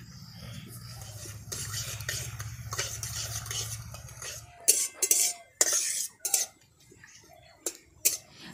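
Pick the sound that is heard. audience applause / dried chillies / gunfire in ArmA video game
dried chillies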